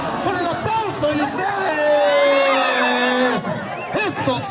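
Rodeo crowd at a jaripeo in Santa Catarina, Guanajuato, cheering and whooping steadily, a dense, moderately loud wash of voices with an announcer speaking over it.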